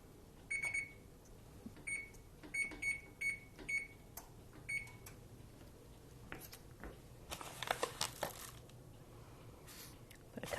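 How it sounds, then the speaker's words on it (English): An oven being switched on and set to 325, heard as a string of short, sharp electronic beeps from the control panel, followed by a few clicks and soft handling noises. "Oh, I'm going to turn my oven on too."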